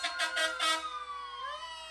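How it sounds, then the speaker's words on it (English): Fire engine sirens and horns from a volunteer fire department truck in a Fourth of July parade in North Carolina, loud pulsing wails that swoop into a long falling tone, close by. "Horns and sirens, volunteer fire department"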